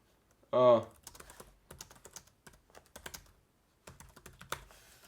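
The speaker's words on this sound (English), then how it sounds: "the typing experience not that bad" Rapid, uneven clicking on a 2012 MacBook Pro laptop keyboard up close, with short pauses between bursts and a brief tonal sound just before the typing starts.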